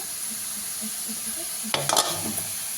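Food cooking in coconut oil in a pan for a lunch box dish, a low steady sizzle that sharpens into a brief burst of crackling and stirring near the end, close by with no voices.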